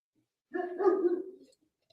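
A dog barks in a short, close burst of a few quick woofs that run together, then quiet.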